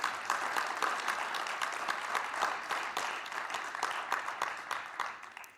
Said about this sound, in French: je voudrais que nous prenions le temps de vous applaudir encore chaleureusement